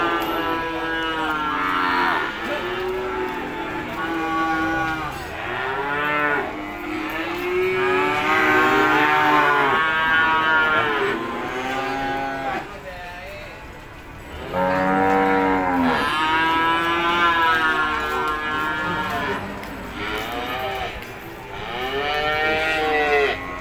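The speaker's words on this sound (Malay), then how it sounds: "inilah suasana dari pasar sapi Ambar Ketawang ya" Cattle low and moo loudly and repeatedly, several animals calling over one another, at the busy Ambarketawang cattle market in Yogyakarta, with a crowded market hum beneath.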